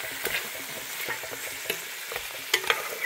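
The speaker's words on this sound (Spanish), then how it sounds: "Qué bonito suena la cazuela" A clay pot sizzles on the heat while cooking, with a continuous bright frying hiss and light scraping stirs at a loose rhythm, close and alone with no voices.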